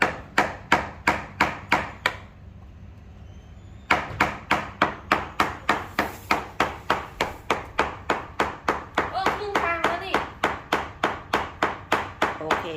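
Steady, sharp metallic hammer blows striking a chisel to lift floor tiles, about two per second, with a short pause before the pounding resumes; a voice talks faintly underneath.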